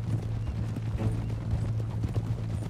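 A horse walks with steady hoof clip-clops in Red Dead Redemption 2, set in a western mountain landscape; the hoofbeats are moderately loud and continuous over a low ambient hum, with no talking.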